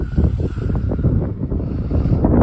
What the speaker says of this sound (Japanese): いいですね、海の音は。